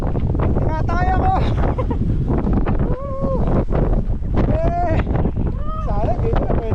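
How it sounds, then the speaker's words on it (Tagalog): Strong wind sweeps across the summit of Mt. Batulao, a constant low rumble of microphone buffeting that runs beneath loud, close voices chatting throughout. "Lakas ang hangin guys."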